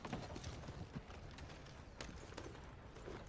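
Horse hooves clip-clopping in the Red Dead Online video game, quiet and a little distant, a loose rhythm of soft thuds over a steady bed of ambient noise.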